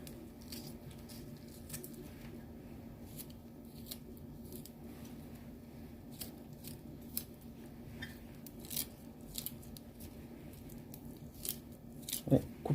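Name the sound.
cutting onion into thin strips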